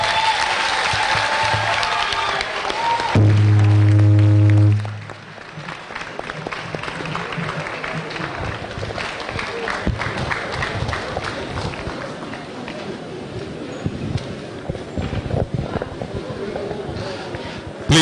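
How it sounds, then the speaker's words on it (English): An audience claps after a public lecture on reproductive health. A brief electronic tone sounds early on, then sustained crowd applause carries through the rest, with some voice activity mixed in. "Another round of applause for our guest lecturer."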